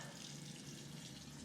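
Tap water runs steadily into a bathroom sink during a face rinse, a continuous close splashing hiss with no voices.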